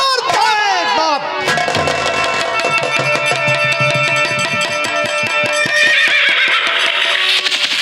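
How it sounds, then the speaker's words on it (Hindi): A horse whinnies loudly near the start with a descending neigh, then music or crowd-like sound continues densely throughout in a Hindi costume drama scene. "मेरा घोड़ा तैयार किया जाए और चलने की तैयारी बनाए।"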